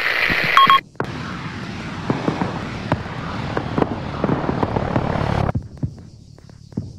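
An aircraft flies through an air-combat scene with an enemy plane targeted; a continuous engine drone carries sharp, repeated bursts of fire and cuts off abruptly near the end.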